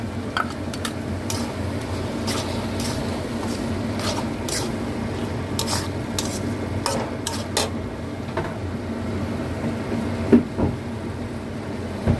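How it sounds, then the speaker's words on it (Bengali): Poppy seed paste stirred into a dish cooking in a pan, soft repeated scraping and light metallic taps of a spoon against the vessel, close and fairly quiet over a low steady hum. "পোস্তটা দিয়ে নাড়া হয়ে গেছে"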